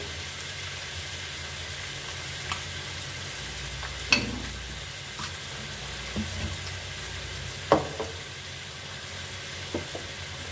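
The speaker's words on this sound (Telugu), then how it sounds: "ఇందులోనే అల్లం వెల్లిపాయ పేస్ట్ కూడా వేసుకుంటున్నాను." Ginger garlic paste frying in a chicken gravy in a pan, a low steady sizzle with a few soft clinks and stirring knocks scattered through it, no talk.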